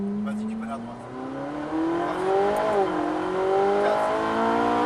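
Ferrari 458 Italia V8 engine pulling hard on the Pau-Arnos race circuit, a loud, steady rising drone with one brief dip in pitch as the car shifts, then climbing again, with a voice talking over it.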